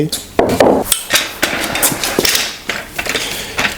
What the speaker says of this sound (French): je vais utiliser mon marteau en bois